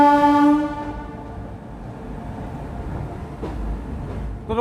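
Passenger train 04247 departing Raebareli junction sounds a loud horn blast at the start, then settles into a low, continuous rolling rumble with a faint clank toward the end.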